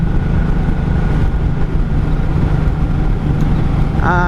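A 1984 Honda Shadow 700 VT700C cruiser riding at night in overdrive, with a steady low engine drone and heavy wind rush throughout, and a brief higher whine near the end.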